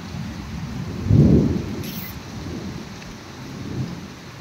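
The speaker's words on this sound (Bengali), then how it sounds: "একদম ভালো রকম জল হচ্ছে, আকাশও ডাকছে" Heavy rain hisses steadily through a Kalbaishakhi storm, with a deep rumble of thunder swelling near the start and a fainter roll later, no voices present.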